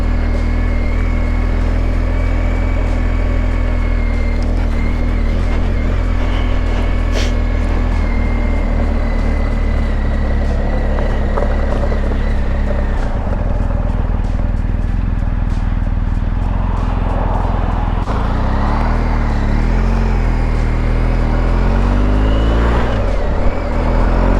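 A cold BMW R 1250 GS Adventure motorcycle engine idles loudly and steadily up close, its deep even drone shifting slightly in pitch partway through, with no talk.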